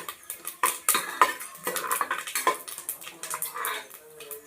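Cinnamon and fennel fry in oil in a pan while a metal spoon stirs, making repeated close clinks and scrapes against the pan over a faint sizzle.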